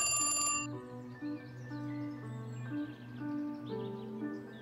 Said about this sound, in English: Crazy alarm sound.